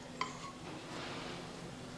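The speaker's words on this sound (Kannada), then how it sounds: "ಈಗ ಶಾಲು ಫ್ರೈ ಮಾಡ್ಕೊಳಕ್ಕೆ ಒಂದು ಪಾತ್ರೆ ಇಟ್ಕೋತೀನಿ ರೀ." A cooking pan set on a home kitchen stove for shallow frying leftover-rice breakfast gives one sharp metallic clink, followed by quiet kitchen ambience.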